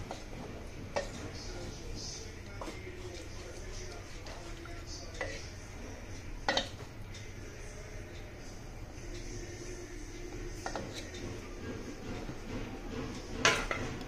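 Rice and water are stirred gently in a pressure cooker, with soft scraping and occasional sharp metallic clinks of the spoon against the pot, close by, while a voice speaks faintly in the background.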